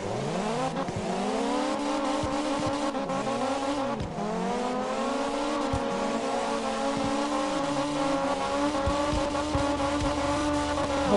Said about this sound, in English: Then you get the cool car drift like that.